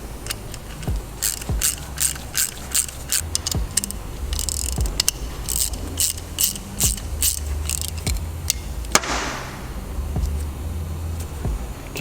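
A ratchet tightens a cap onto the top port of a Tial external wastegate on a Subaru WRX STI, giving repeated bursts of quick, crisp pawl clicks at close range with short pauses between strokes.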